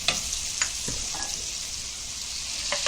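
Turmeric and curry leaves frying in hot oil with tomatoes for a vegetarian and seafood thali masala, giving a steady close sizzle with a few scraping stirs of a spoon in the pan.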